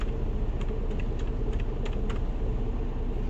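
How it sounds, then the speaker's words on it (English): Credentials are typed on a computer keyboard as a run of quick, light key taps over a steady low rumble of background engine or road noise. "Type in all the credentials."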